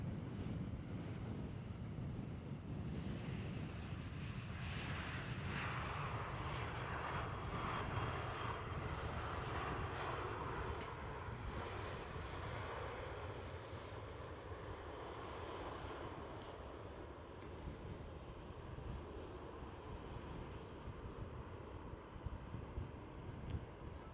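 An Iberia Airbus A320 at Schiphol airport makes a sustained jet engine roar that swells to a peak, then gradually fades into a lower rumble, with some wind buffeting on the microphone and no voices.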